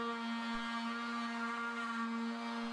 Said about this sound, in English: the router is reset with a dish carving bit and positioned to cut to the outside of the lip